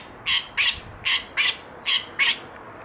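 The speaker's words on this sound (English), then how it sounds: "Some beautiful magpies in the background." Magpies calling outdoors, six harsh, evenly spaced squawks in a steady rhythm, fairly close and clear over a quiet background with no talk.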